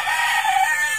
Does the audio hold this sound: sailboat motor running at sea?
no